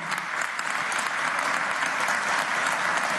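A hall audience at the closing of an international book fair applauds to welcome an ambassador, a dense, even wash of many hands clapping continuously at steady volume throughout.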